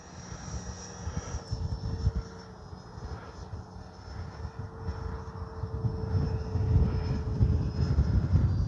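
A Freewing Mirage 2000 model jet engine whines and roars steadily in windy conditions, rising and falling in pitch as it flies past, with a constant hiss and low rumble throughout.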